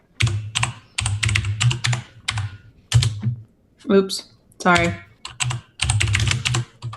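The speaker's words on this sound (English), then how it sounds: "I have food in my hand, so I'm not typing correctly" Someone types on a computer keyboard with a hand full of food, producing rapid bursts of close, clattering keystrokes broken by short pauses, while people talk and a voice briefly apologises between the bursts.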